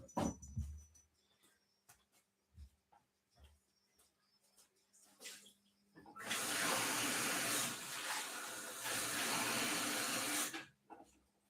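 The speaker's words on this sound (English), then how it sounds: "I'm gonna go get a glass of water." Tap water running into a glass, a strong steady splashing stream lasting several seconds after scattered small clicks and handling noises in a quiet room.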